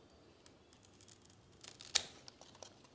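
A Philodendron Burle Marx stem is cut for propagation with a single quiet snip of a blade, preceded by faint rustling of the plant and handling, with no talking.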